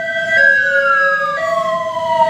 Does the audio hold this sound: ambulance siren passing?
yes